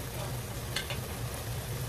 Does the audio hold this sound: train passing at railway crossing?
no